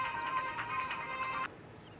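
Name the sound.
phone ringtone, incoming call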